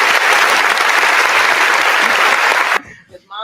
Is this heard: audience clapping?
yes